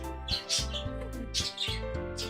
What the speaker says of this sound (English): Why are my birds so loud today?